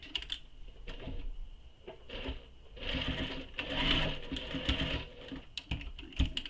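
A sewing machine topstitches along a handbag toward a zipper tab, a quiet, rapid mechanical patter in short bursts and longer runs with small pauses, close up and without talk.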